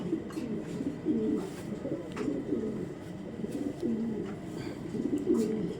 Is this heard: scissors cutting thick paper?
no